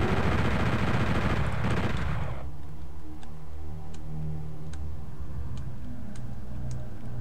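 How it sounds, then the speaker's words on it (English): Chain gun in the PSX Doom video game fires a dense, loud burst of rapid shots for about two seconds. Quiet game ambience with faint ticks follows. "You're gonna want to use the chain gun."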